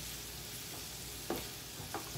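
A jalapeño chile fries in a pan, giving a soft continuous sizzle with a couple of faint stirring scrapes, quiet and close, with no talking.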